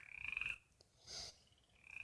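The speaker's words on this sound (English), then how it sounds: "You can hear the frogs over there." Frogs croak faintly from some distance away in short pulsed bursts separated by brief quiet gaps, with no one speaking.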